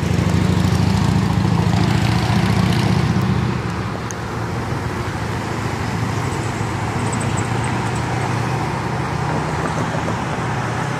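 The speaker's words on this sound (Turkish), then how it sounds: "Vos vos geldi bir tane." A Volkswagen Beetle's engine rumbles through a four-way intersection in Europe among general traffic, loud at first and then easing into a steady, distant roadway hum.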